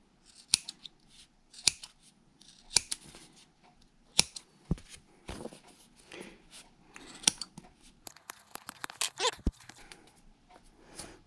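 Crisp scissor snips cutting material for a Halloween mummy puppet costume in irregular bursts, sharp clicks scattered then quickening near the end, close and fairly quiet.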